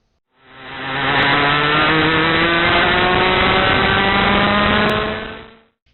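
A racing kart engine on the Badger Kart Club National Circuit in Dousman, Wisconsin, accelerates hard out of a corner, with a loud, close, steadily rising whine that holds for several seconds and then cuts off, alone with no talking.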